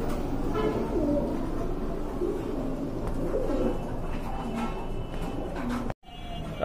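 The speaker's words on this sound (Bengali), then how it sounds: "খুবই সুন্দর কোয়ালিটি সম্পন্ন এক জোড়া কবুতর, সম্পূর্ণ রানিং কবুতর" A pair of running pigeons coo steadily at close range, a continuous low murmur of calls with a brief dropout near the end and no talking.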